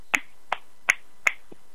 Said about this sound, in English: We're giving you your finger snaps.